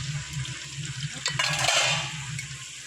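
Garlic, shallots and curry leaves frying in a large pot for a Tamil garlic pepper kuzhambu, a steady close sizzle swelling into a brief louder hiss as the mixture is stirred.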